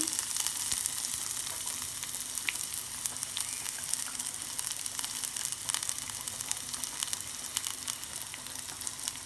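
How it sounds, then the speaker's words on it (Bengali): Bay leaf, dried chilies, cumin, onion and garlic fry in hot oil, giving a steady, close crackling sizzle with dense spatter that holds evenly throughout, with no talking. "আমি তেজপাতা দিয়ে দিলাম দুটা শুকনো মরিচ জিরার ফোড়ন আর দিয়ে দিলাম পেঁয়াজ আর রসুন"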